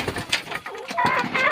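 Chickens clucking and calling in a small backyard coop, with several overlapping bird calls, close and moderately loud, and no talking.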